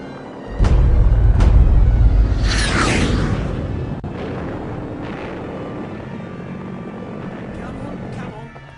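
A German V-1 Doodlebug cruise missile from Peenemünde flies past with a loud, heavy roar that swells as it sweeps close, then settles into a steady, fading drone.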